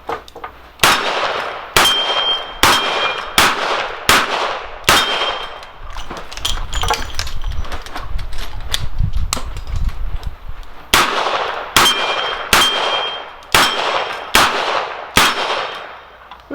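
Revolver shots ring off steel plates at 12 yards: sharp bangs each followed by a metallic clang, fired in two quick strings of about five or six hits. A pause with low rustling handling noise falls between the strings, during the reload.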